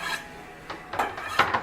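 Ingredients being chopped on a cutting board while preparing a shrimp and scallop étouffée, a few scattered knife knocks and scraping sounds at moderate volume, with no talking.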